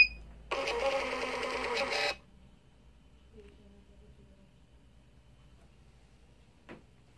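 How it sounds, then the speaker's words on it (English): An optional printer built into an IS9000i Pro Banker series mixed-denomination currency counting machine prints a note breakup, giving one steady buzzing, whirring burst of about a second and a half, followed by near silence and a faint click. "We also have the printer, which is an optional printer with this machine"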